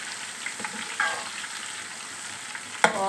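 Garlic and ginger sizzle steadily in hot oil in a pan, a constant bright crackle with a few stirring clinks and a sharp scrape near the end, with no talking.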